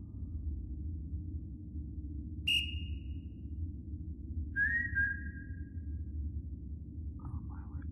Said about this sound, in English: It's you that's whistling. Why are you whistling?